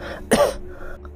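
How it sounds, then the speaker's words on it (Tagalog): A single short cough or throat clearing on a ship, used as an audio drama effect, sharp and close against a faint low background. "Mga pag-ubo nun ang maririnig mo sa ibabaw ng barko"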